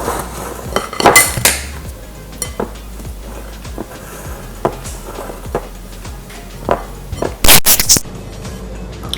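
Eggless cinnamon roll dough is mixed in a bowl, with scattered clinks and knocks of a utensil against the bowl. A louder flurry of clatter comes near the end, and no one speaks.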